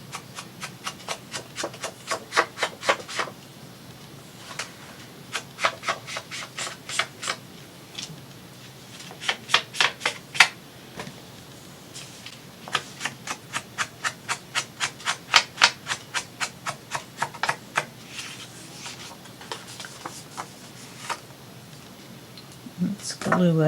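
An ink pad rubbed repeatedly along the fold of a paper lapbook, giving steady bursts of quick scratchy strokes broken by short pauses, close up over a long stretch.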